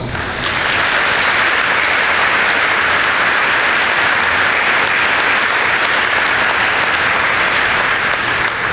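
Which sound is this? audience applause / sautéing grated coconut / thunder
audience applause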